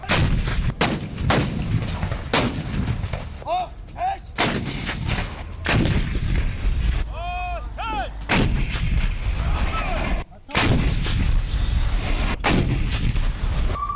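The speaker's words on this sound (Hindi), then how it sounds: "तस्वीरें आप देखिए किस तरह से रूस के तोपखाने की तरफ से यूक्रेन पर यह हमला किया गया।" Russian artillery fire striking Ukraine, a rapid series of loud, sharp booms and blasts repeating irregularly over a steady rumbling background, with no speech.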